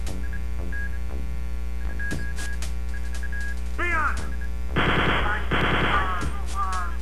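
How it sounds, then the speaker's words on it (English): The chain gun in the video game Wolfenstein 3D fires in rapid, dense bursts, loud and continuous in the second half, mixed with other game sound effects over a constant electronic hum. "This makes it a lot easier with the chain gun."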